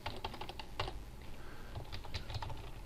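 Keys clicking on a computer keyboard while text is typed in, a quick irregular run of close, light taps with brief pauses, quiet and without voices.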